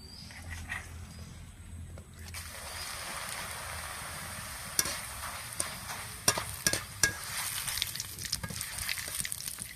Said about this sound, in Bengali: তেল গরম হয়ে গেছে, এবার চিড়াগুলো ভেজে নেব।